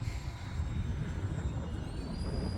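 An E-flite A-10 Thunderbolt II model jet flies past with its throttle backed off and gear retracting, giving a steady broadband airflow roar with a faint high whine that drifts upward near the end.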